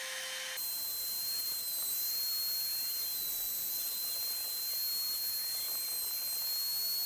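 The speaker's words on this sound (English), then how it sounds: "I used my trim router to cut the recesses freehand" A trim router cuts recesses freehand in wood, producing a loud continuous high-pitched whine with a steady tone and a hissing roar, close up from start to finish.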